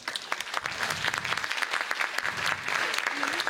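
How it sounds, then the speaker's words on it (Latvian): Stage audience breaking into steady applause as a guest is invited up, a dense continuous patter of many hands at moderate level with no talk over it. "Lūdzu, aplausi."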